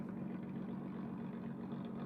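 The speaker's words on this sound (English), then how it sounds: "You can hear the engine swap in this machine right here." A Nissan GT-R drift car with a swapped engine, on track at a drift championship round, gives off a low, steady rumble. The engine sounds even and idle-like from start to end, with no revving.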